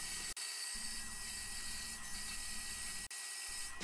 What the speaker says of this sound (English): I start by resawing a piece of solid cherry into slices on the bandsaw